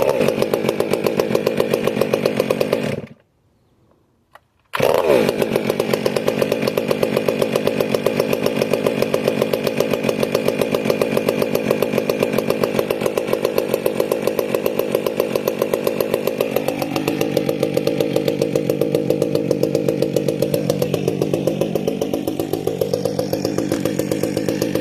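Rebuilt Stihl 362 chainsaw running in after a fresh piston and ring, a loud steady engine drone that drops out briefly near the start, then resumes and holds with a few shifts in pitch.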